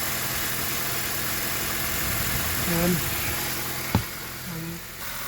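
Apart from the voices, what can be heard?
2013 Honda Accord engine idling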